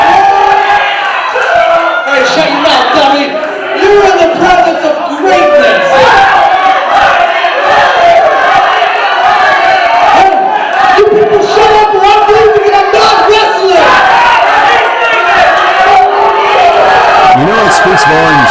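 A wrestling crowd in Idaho roars with loud, dense shouting, cheering and chanting, a continuous close wall of voices with rising surges that drowns out individual words.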